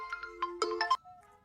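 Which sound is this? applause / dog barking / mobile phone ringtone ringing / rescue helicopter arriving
mobile phone ringtone ringing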